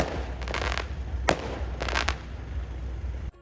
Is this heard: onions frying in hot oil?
no